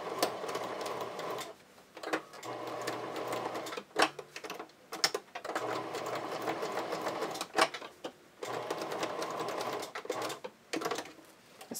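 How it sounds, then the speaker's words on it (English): A sewing machine runs a straight stitch to tack panty fabric in place, whirring in several bursts separated by short pauses, close and moderately loud with occasional clicks. "I'm going to do a little straight stitch just to tack it in place"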